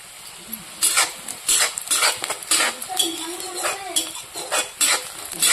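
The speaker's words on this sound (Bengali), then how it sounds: "এই যে পেঁয়াজটা লাল লাল করে ভাজা হয়ে গেছে" Onions fry to a reddish brown in a pan as a spoon stirs them. Quick metallic scrapes and clinks come in irregular bursts over a constant close sizzle.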